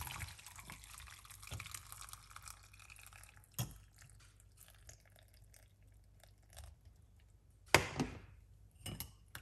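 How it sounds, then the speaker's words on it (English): An apple, ginger, clove and garlic drink is poured out, giving faint, scattered liquid drips and splashes with a few sharp clinks over a quiet background. "Pour it out like this."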